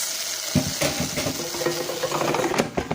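Steady hissing sizzle of salmon patties frying in a pan, with occasional stirring clatter and scrapes; close and continuous, no voices.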